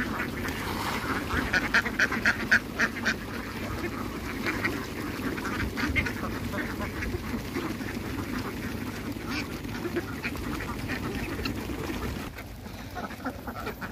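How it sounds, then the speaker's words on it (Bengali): Khaki Campbell ducks quack repeatedly while feeding on a farm, a busy flock chattering in overlapping bursts at moderate distance over a constant background of shuffling and pecking. "খাবার দেওয়ার সাথে সাথে দেখতেই পারতেছেন কি সুন্দরভাবে খাইতেছে।"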